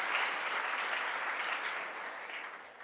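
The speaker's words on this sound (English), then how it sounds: "So let's give her a clap in her absence" An audience at a keynote speech claps in steady, even applause that holds strong, then fades gradually toward the end, with no one speaking over it.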